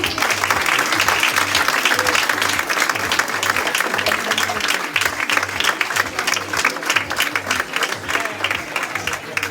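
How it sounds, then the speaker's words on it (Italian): Sustained audience applause for boxers at an Olympic-style boxing event in Verona, dense steady clapping filling the whole stretch at loud, even level with crowd noise underneath. "Facciamo un bel applauso a questi pugili"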